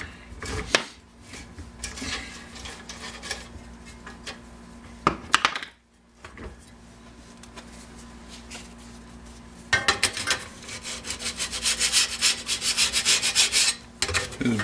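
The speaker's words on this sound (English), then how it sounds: "get in there with a stone and just dress that edge up a bit" Sharpening stone dressing the cutting edge of a reel mower blade: irregular scraping and rubbing strokes, a few sharp knocks, a brief pause, then a denser run of rapid rasping near the end, with no talk.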